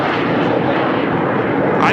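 Airplanes pass over a 1988 US Open tennis match, making a steady, loud broadband roar that fills the whole stretch, with voices audible underneath.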